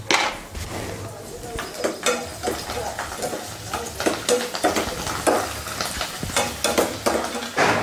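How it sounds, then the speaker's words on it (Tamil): Dried vathal, called kudal, fries in hot oil, a busy crackling sizzle with scraping stirs and occasional clinks from the pan, steady and close throughout. "எண்ணெய் காஞ்சதுமே குடல் பொரிச்சுக்கலாம்."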